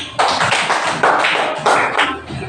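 Schoolchildren in a classroom clap together for a presenting group, striking in short, rhythmic bursts with brief gaps between them, loud and near with no talking.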